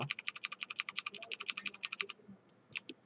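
Two computer keyboard keys, F and G, pressed in a quick steady run of about twenty crisp clicks, then a pause and a couple of final taps, close and clear with no talking.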